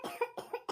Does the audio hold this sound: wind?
no